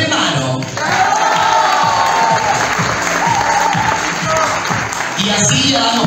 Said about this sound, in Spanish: Fuerte el aplauso para Remano.